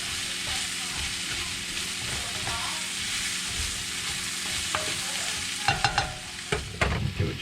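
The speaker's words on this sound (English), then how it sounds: "Now that we let our mushrooms saute a little bit" Mushrooms and onions sauté in a pan with a steady close sizzle, and a run of sharp scrapes and taps from stirring comes near the end. No one speaks.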